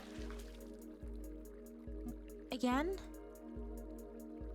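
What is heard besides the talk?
hot water running from a tap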